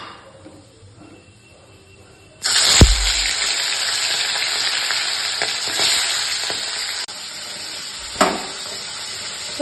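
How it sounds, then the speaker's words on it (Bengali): Fish fried in hot oil: a loud sizzle bursts in suddenly after a quiet start, holds as a steady crackling hiss with a few clinks, then drops slightly near the end. "আগের মাছগুলো ভাজা হয়ে তুলে রেখেছি, এবার বাকি মাছগুলো ভাজছি।"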